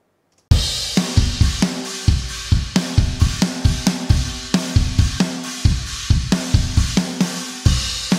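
A punchy drum kit plays a steady groove, heavily compressed drums blended with uncompressed drums through a Heritage Audio Successor bus compressor, with hard kick and snare hits, dense and loud throughout, no voices.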